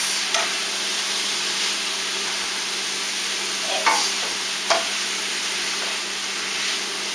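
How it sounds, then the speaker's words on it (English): Meat frying in a pan for tacos, a steady broadband sizzle running throughout with a few soft knocks of stirring, fairly close and with no talk. "I'm going to cook my meat now"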